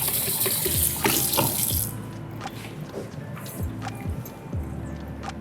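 Water from a tap runs in a steady splashing stream to wet a paper-making felt, then cuts off after a couple of seconds, leaving faint drips and light handling sounds.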